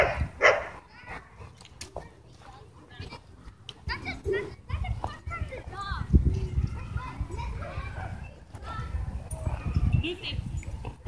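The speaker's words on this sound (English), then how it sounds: "That's a dog." A Doberman and a Belgian Malinois bark at a dog park in scattered sharp barks amid children's voices and people talking nearby.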